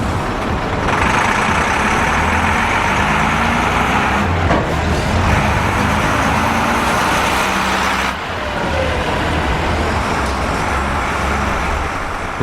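Vintage and modern London buses, an old K-type and a new double-decker, pull away from a bus show, their engines rumbling steadily amid continuous road and traffic noise, with no speech.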